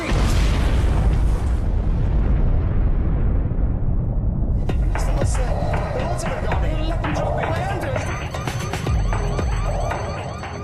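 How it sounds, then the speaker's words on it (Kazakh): A reactor explosion at the Chernobyl nuclear power plant: a loud, sustained roaring blast with deep rumbling and siren-like wails, followed by crackling debris, while a narrator's voice speaks over it throughout. "Сағат 1-23 минут кеткенде реактор жарылды."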